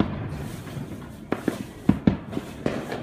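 Fourth of July fireworks pop and bang near a house, a handful of sharp, separate bursts in quick irregular succession.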